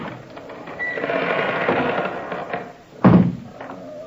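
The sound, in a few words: door opening slowly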